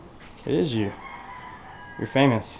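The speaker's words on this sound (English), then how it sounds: "you can hear all the roosters behind me" Roosters crow in two short calls a moment apart, somewhat distant, in Puerto Escondido, Oaxaca, Mexico, while a person speaks briefly in between.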